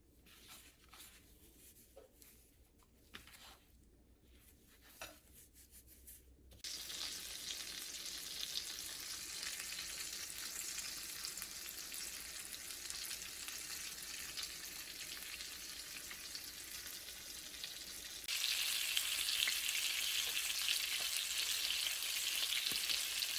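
Pomfret fish frying in coconut oil, a soft crackle that jumps into a steady loud sizzle after a few seconds and grows stronger again near the end, heard alone without voices.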